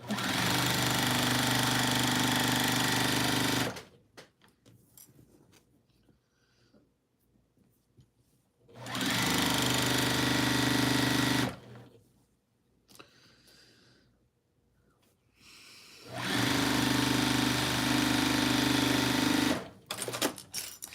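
A sewing machine stitches the final seam of a carnival-themed quilt in three loud, steady bursts of about four seconds each, with quiet handling noises between the runs.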